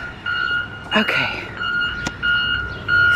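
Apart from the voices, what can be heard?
construction vehicle beeping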